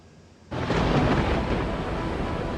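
A heavy rain and thunderstorm over North India comes in abruptly after a quiet moment as a loud, sustained wash of rain and rumble that stays dense and steady to the end.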